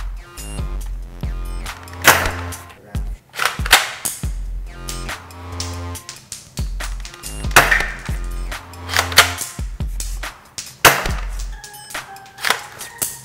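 A Paper Shooters blaster fires, is cocked and ejects its shell in a repeated cycle of sharp, close wooden snaps and clicks, with short gaps between shots and no talk.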